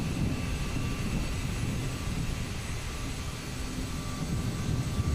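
Steady broadband jet roar of an Aerosoft CRJ 700 regional airliner in Microsoft Flight Simulator 2024, a constant even engine drone with no voices.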